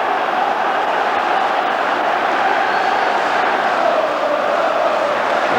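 A partisan home crowd at Parkhead during a 1997/98 Celtic vs Rangers league match, a loud, steady roar of massed voices sustained without a break.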